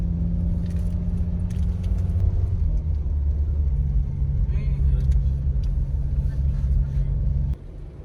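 A Honda Freed's engine drones low and steady while climbing a steep uphill road in first gear near Dieng, a continuous close rumble of accelerating motor and road noise that cuts off abruptly near the end, with faint voices in the cabin.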